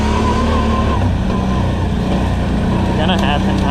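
A new 2020 Can-Am Outlander 650 XMR quad runs loud and close, its engine droning steadily with rising revs, while someone talks over the motor.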